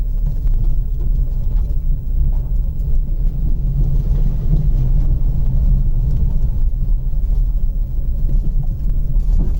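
Off-road vehicle driving along a jungle track in Rajaji Tiger Reserve, a steady loud low engine and tyre rumble running continuously throughout, with no voices.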